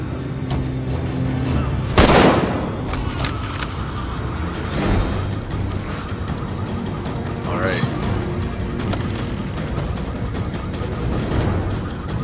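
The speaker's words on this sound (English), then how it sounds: "Let's shoot this one, shall we?" Gunfire in The Walking Dead: Survival Instinct, a loud sharp shot up front followed by scattered fainter pops and rumbling impacts over steady game ambience.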